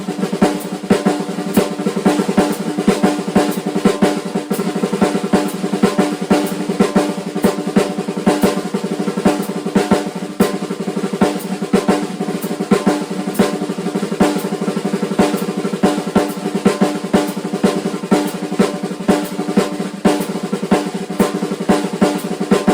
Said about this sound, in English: Now I'm getting continuous roll with accents